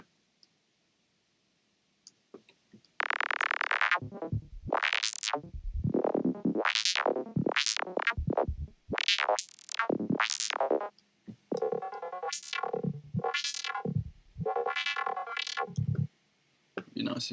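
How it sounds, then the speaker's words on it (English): Gloopy, squelchy synth tones from the Vital software synth sweep up and down in rapid bursts, following a short silent lead-in, then give way to buzzy gated stabs; loud and close, with no talking. "it appears to change pitch like a squelch, but it actually doesn't."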